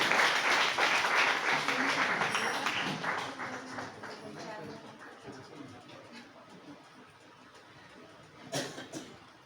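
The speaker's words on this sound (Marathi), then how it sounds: "खरं तर जोरदार टाळ्या झाल्या पाहिजेत यासाठी" Audience applause at a Marathi book launch ceremony, dense clapping loudest at the start and thinning out over several seconds, with a short burst of claps near the end and voices murmuring underneath.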